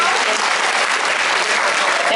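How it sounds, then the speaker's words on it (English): A crowd at a holiday table-setting event applauds its event chair, Nicole Frank, with loud, continuous, dense clapping that stays steady from start to finish, with faint voices blended into it. "can we have a round of applause"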